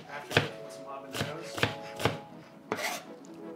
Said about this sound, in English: So I'm gonna give everything like a rough chop.